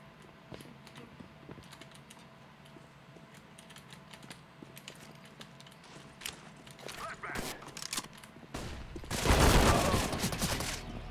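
Counter-Strike: Global Offensive revolver shots ring out in a wingman match, a few sharp cracks building to a loud burst near the end, over steady keyboard clatter and players chatting.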